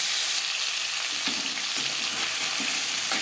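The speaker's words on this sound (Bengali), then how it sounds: "উল্টে পাল্টে মাছের মাথা ভাজা হয়ে গেছে" Rohu fish head frying in hot oil, a steady broadband sizzle with a few soft clicks as the pieces are turned, close and continuous with no talk.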